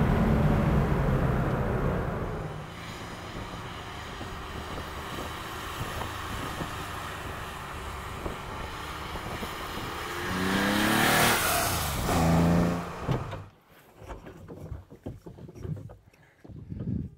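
A Porsche 911 ST sports car engine drones and builds as the car drives, rising into a loud, revving surge before it cuts off abruptly, leaving quieter rumbling and wind noise.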